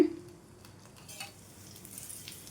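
Bun dosa fries in a pan on a medium flame, a faint, even sizzle with a few soft clinks after the lid is lifted.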